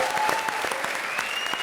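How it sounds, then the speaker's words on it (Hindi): A studio audience at a televised comedy show breaks into brisk, dense clapping, a short burst of steady applause at moderate volume with no voices over it. "ठोको ताली"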